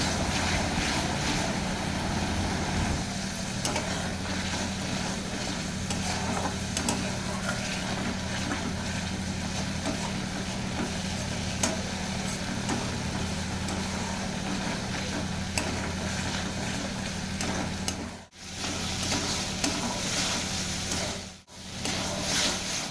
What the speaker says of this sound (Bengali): এবার সামান্য পরিমাণ মিক্সি বাটা জলটা দিয়ে আরও একটুক্ষণ কষাতে থাকবো